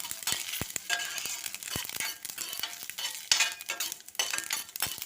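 Chana dal, cumin and dried red chillies fry in hot oil in a pan with a close, steady crackling sizzle, broken by light stirring scrapes and occasional utensil clinks, with no talking.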